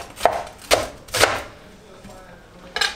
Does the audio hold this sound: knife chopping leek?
yes